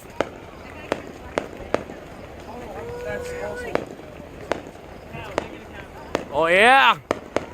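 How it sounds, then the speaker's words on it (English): Fourth of July fireworks crack and pop in sharp, scattered bursts across a night show, fairly loud and spaced out, while people talk and cheer excitedly between the explosions. "All of those fireworks!"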